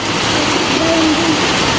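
Steady rain pouring outside a Gujarati home during the monsoon, a continuous loud hiss with a soft voice briefly underneath.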